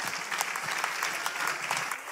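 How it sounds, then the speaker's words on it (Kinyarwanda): Applause from a gathered crowd, a fairly faint, continuous patter of many hands with a few louder individual claps popping out over a short stretch. "Bakomera amashyi menshi cyane."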